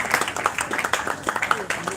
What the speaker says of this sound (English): Let's give all our winners a huge round of applause